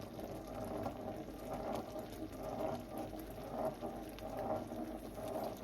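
St Andy Pandy mixture of condensed milk kept at a steady rolling boil in a pan, a soft continuous bubbling and popping that swells and eases in gentle waves, fairly quiet and without voices.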